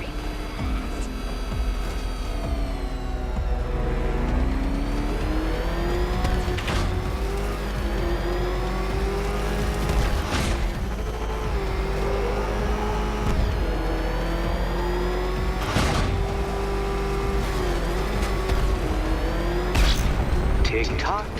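Batmobile engine in Batman Arkham Knight, a sustained roaring, revving drone with rising and falling pitch and several loud booming impacts, continuous and close, with talk over it.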